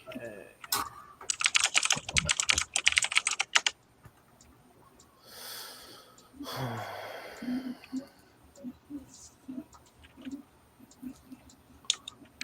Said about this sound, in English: I thought you were getting a streaming keyboard, Danny